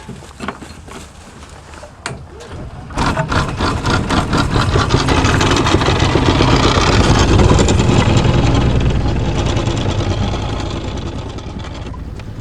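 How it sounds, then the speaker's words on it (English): A sailing yacht's inboard engine fires up after a few quiet seconds and keeps chugging, a loud low throb that builds and holds steady, then eases off slightly toward the end. "Start the engine again."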